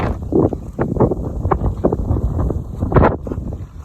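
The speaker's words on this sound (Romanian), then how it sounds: "ce bate vântul" Strong wind buffets the microphone in gusty, irregular rumbling bursts near a cabin in woodland, loud and close throughout.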